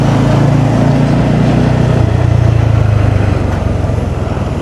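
A motorcycle engine runs loud and steady close up while riding through a traffic jam on a road trip from Hooghly to Gangtok, with a continuous rumbling drone and no pauses.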